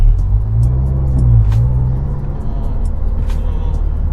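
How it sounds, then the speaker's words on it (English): Mazda3 MPS turbo hatchback with an aftermarket exhaust, its engine giving a steady, loud low-pitched thrum and rumble that swells briefly while driving, with no talk over it. "You can hear the thrumping sound is because he changed his exhaust."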